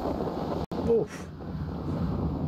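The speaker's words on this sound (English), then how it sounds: "A bit bloody windy." Wind gusting outdoors, a steady low rumble buffeting the microphone close up, with a brief dropout and a short surge of turbulence partway through.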